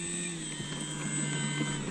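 A small engine of an E-flite Maule M7 radio-controlled model airplane drones steadily at a high, buzzing pitch, holding a constant tone throughout with no talking.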